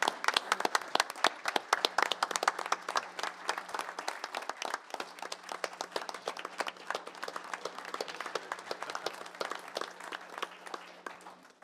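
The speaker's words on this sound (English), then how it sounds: "If we could give him a round of applause" A round of applause at a Clovis city commission meeting, a moderate crowd clapping in a steady crackle of individual claps that runs for several seconds and slowly thins out, heard somewhat distant in a large room.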